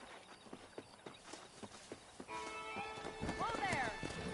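Horse hooves clop along steadily in Red Dead Redemption, followed by a horse whinnying, with a faint voice underneath.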